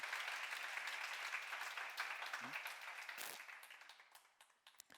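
Congregation applause during a church sermon, a burst of close clapping that thins and fades over a few seconds into scattered claps, with a brief voice heard in the middle.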